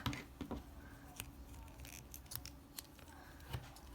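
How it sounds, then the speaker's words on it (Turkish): Scissors snip through crochet yarn on an amigurumi toy collar, a few quiet, close, crisp cuts spaced out over a few seconds. "kesiyorum. Biraz uzun bir ip bırakabilirsiniz dikiş yapacağımız için."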